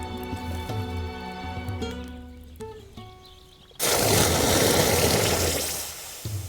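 A hot sword is quenched in water by a blacksmith in Kingdom Come Deliverance 2, a loud sudden hiss and sizzle that surges in after a ringing metallic tone and holds for seconds before fading.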